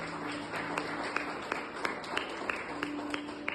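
A church congregation claps for the Lord in scattered, rhythmic hand claps, fairly faint and distant, with sharp individual claps standing out over a low steady murmur.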